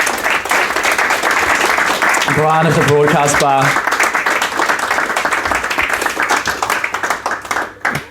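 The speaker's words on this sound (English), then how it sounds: "Could we give one more round of applause to Grace and to Brian as well?" Audience applause at a book launch for ADAM's Book of Prayers at the Broadcast bar in Adelaide, a loud sustained clapping that fills the room, with a short burst of singing or music partway through.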